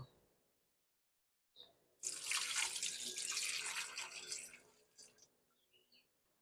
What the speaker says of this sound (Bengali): এবার আমি এর মধ্যে ঠান্ডা জল দিয়ে দেব